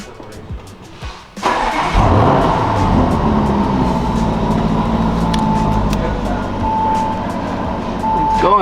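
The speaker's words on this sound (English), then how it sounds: "So now we start the car." A Lamborghini Urus fitted out as an off-road camper starts up after a quiet moment, its engine catching loudly and settling into a steady, close idle hum that runs to the end.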